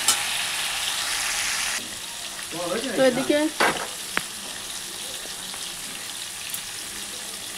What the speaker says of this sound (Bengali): তারপরে এই তেলেই আবার একটু